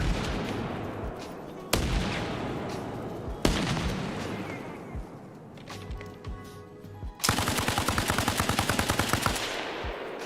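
Rapid gunfire rattles through a battle in the video game Arma Reforger, with sharp single shots, heavy booms from thrown grenades, and a dense closing burst of automatic fire, loud and close with no talk.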